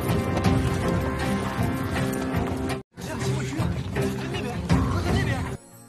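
Hooves clip-clop in an animated Chinese donghua as a woman rides a horse, a steady rhythmic clatter mixed with music and effects, briefly cut by a short gap of silence partway through.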